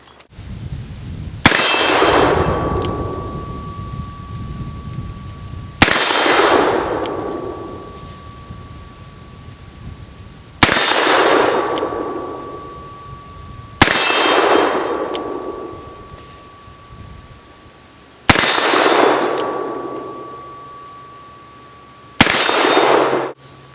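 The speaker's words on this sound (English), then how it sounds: "let's see how the Redhawk and me does against Evil Roy shooting one-handed" A .44 Magnum Ruger Redhawk revolver fires six well-spaced shots, each a sharp, loud crack followed by the lingering metallic ring of a steel target being hit, echoing out before the next shot.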